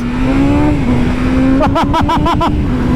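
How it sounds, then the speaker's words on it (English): A BMW M 1000 RR sport motorcycle engine whines at high revs on an open road, then bounces off the limiter in about six rapid stutters, loud and close with steady wind noise. "This thing revs up super fast, like Zach mentioned."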